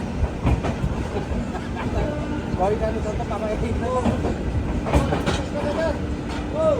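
The Jan Shatabdi Express runs from Howrah toward Bhubaneswar, a steady rumble with rhythmic wheel clacks and rattling carriage noise heard from inside, while people talk in the coach.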